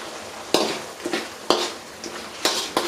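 Bay leaves hit a hot pan of onions as chicken chops cook, setting off sharp sizzling bursts about every second, along with the scrape and rattle of stirring in a pan close by.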